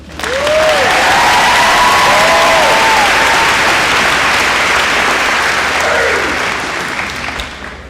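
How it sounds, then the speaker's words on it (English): Audience at a spring high school graduation ceremony breaks into loud, sustained applause filling the hall, with a few whistles or cheers rising over the clapping before it slowly tapers off near the end. "How about one more applause for Mr. Wheat?"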